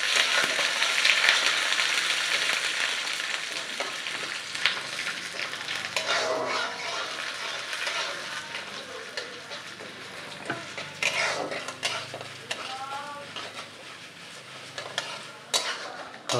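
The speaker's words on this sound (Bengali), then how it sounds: "হচ্ছে ডাল ভাজাভাজি, ডাল ভাজি হতে থাক" Lentils frying and being stirred in a pan for a Monday vegetarian meal, a steady sizzle with repeated scraping stirs and occasional utensil clinks, fairly close.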